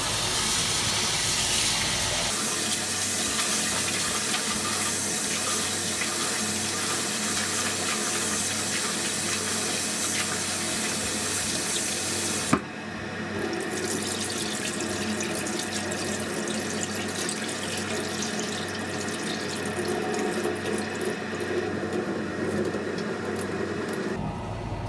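A kitchen tap runs steadily for the whole stretch, water splashing into a sink as rice is washed, with a brief knock midway as the flow shifts slightly.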